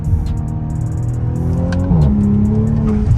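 An ECU-tuned Audi engine revs hard and climbs in pitch, shifts once and keeps pulling, loud and close from inside the cabin.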